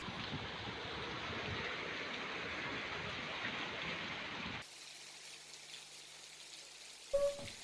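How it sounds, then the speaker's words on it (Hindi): Heavy rain pours down in Dhamtari, Chhattisgarh, making a dense, steady hiss for several seconds before it cuts abruptly to a much quieter, muffled scene. "छत्तीसगढ़ के धमतरी में बारिश लगातार हो रही है"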